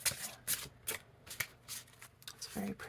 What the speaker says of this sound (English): but I can top shuffle